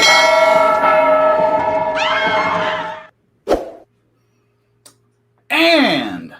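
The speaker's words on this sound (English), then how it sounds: "Not that bell. This bell." A church bell strikes with a long, resonant ringing tone that decays away, followed by a short struck clang and another bright bell strike with a wavering sustained ring.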